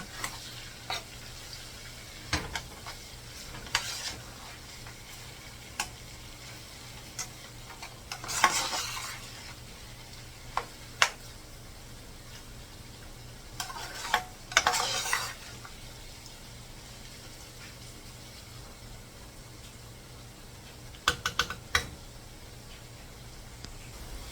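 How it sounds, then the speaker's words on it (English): A spoon stirs home fries seasoned with black pepper in a pan, giving soft continuous sizzling and scattered scraping, clinking strokes that come in bursts, with no talking. "And add my black pepper. I'm gonna stir it on up."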